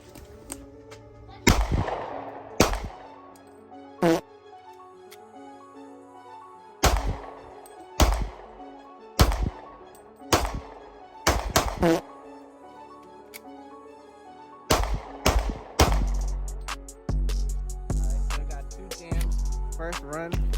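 Glock 27 .40 caliber pistol fired on a cold day, a series of sharp, loud reports in uneven groups with short gaps between, some shots coming in quick pairs and a rapid string near the end.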